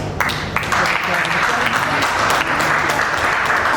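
A large graduation audience gives a sustained round of applause, dense and loud throughout, with a faint murmur of voices beneath.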